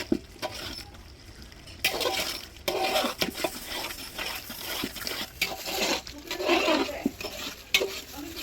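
A spoon stirs biryani in a cooking pot, giving irregular bursts of scraping and clattering against the metal with a soft sizzle underneath, close and moderately loud, with no talk.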